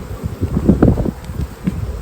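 Honeybees buzz close up at an opened hive in a spring apiary, a steady dense hum with soft rustling and a touch of wind noise.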